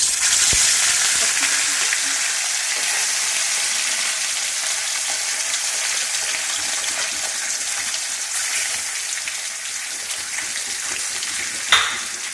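Fish fries in hot oil in a wok (kadai) for a mustard-paste fish curry, a loud, steady sizzle with occasional stirring and a brief utensil knock near the end.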